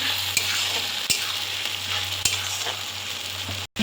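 A spice paste of dried and green chillies, ginger, garlic and garam masala fries with tomatoes and onions in oil, a close steady sizzle broken by sharp spoon clacks against the pan.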